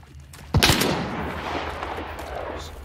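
A single sharp gunshot from Hunt: Showdown cracks loudly at about half a second, followed by a long reverberant tail that fades slowly over a low ambient hum.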